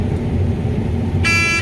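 Over a low rumbling background, a short, bright toy car horn beeps once near the end, buzzy and close.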